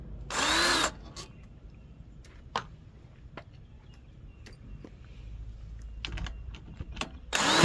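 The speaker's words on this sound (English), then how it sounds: "Loosen the bolts and remove the governor plate bolt." A power drill or impact tool loosens bolts on a Honda HRX 217 lawn mower, sounding in a loud burst near the start and again at the very end, with scattered clicks and handling noises between.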